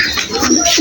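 Pigeons coo softly in short, murmuring bursts while feeding from a person's hand, close by and with no talk over them.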